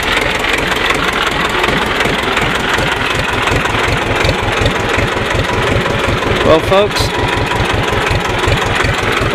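A Sears 10HP, 30-inch riding mower engine runs close by with a steady, rapid pulsing throb throughout, while someone speaks briefly over it.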